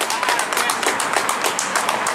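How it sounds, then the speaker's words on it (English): A religious gathering's audience claps rapidly and continuously, a dense stream of crisp hand claps close by with a slight rhythmic pulse and no talk. "Clap it up."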